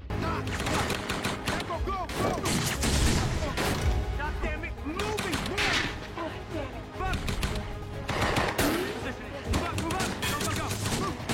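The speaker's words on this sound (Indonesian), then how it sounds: "Baku tembak terjadi." A gunfire exchange from an action film crackles in rapid, overlapping bursts of shots and booms under a talking voice.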